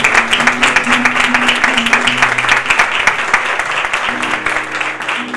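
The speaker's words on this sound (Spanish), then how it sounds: "Un fuerte aplauso para don José" A crowd at a gastronomic fair in San Fernando applauds winemaker José Ortiz of Bodegas Occidente, giving loud, sustained, dense clapping from start to finish. A faint voice is heard beneath it.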